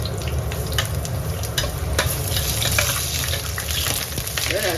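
Ginger stir-fries in oil in a wok over high heat, a loud continuous sizzle broken by scraping and stirring clatter, close and without speech.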